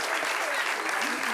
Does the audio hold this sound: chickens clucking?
no